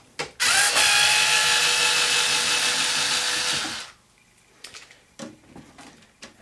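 A power screwdriver whines loudly for about three seconds while removing a screw from the back panel of a Samsung DLP TV, then stops, leaving a few light handling clicks and taps.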